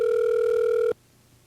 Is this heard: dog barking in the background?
no